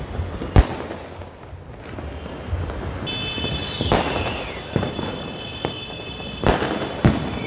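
Diwali fireworks in Una crack and pop in sharp bursts every second or so against a steady crowd-and-traffic din, with one whistling rocket trailing a thin tone.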